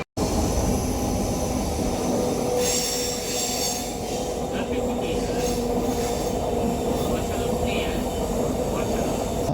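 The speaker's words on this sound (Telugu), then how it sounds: "1 నిమిషం హాల్ట్ తర్వాత మన ట్రైన్ మలక్పేట్ రైల్వే స్టేషన్ నుండి తిరిగి బయలుదేరింది." A MEMU train pulls away from Malakpet railway station, its wheels squealing and grinding over a dense, continuous rumble heard from on board, loud and close throughout, with faint voices mixed in.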